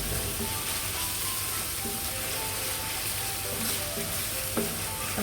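Onion sizzles steadily in a hot pan while frying for chicken tikka masala, a dense continuous crackle with occasional soft stirring scrapes, close and alone with no talk.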